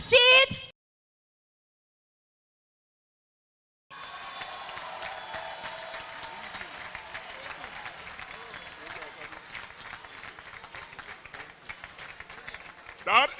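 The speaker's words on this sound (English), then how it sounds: "Let's continue the applause." Audience applause after a commencement convocation speech, a steady wash of clapping from a large crowd in a hall, beginning after a brief pause and continuing evenly, with a short burst at the very start.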